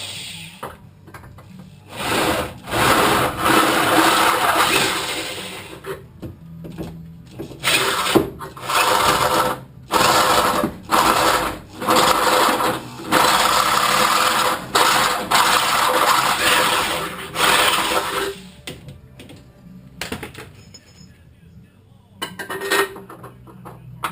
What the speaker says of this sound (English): Egg it out with a next step up,